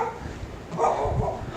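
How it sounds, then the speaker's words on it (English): Dogs barking close by, a few sharp barks over a short stretch of kitchen background noise. "Oh, you're going to hear them barking a lot."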